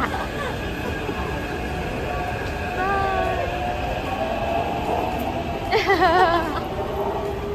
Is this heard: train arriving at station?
yes